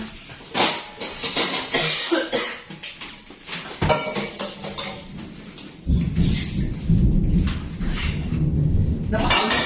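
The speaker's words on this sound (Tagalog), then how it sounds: "Ang lakas ng kidlat, my God." Thunder from a lightning storm outside a home, with deep rolling rumbles building and swelling loudly in the second half, alongside scattered household noises and brief background sounds.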